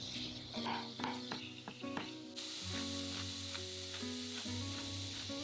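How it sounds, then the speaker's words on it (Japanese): Ground meat sizzles in a pan with a continuous hiss, a few stirring scrapes early on and a loud sustained hum of background tones, no talking. "空いたフライパンにひき肉を入れて炒めます。"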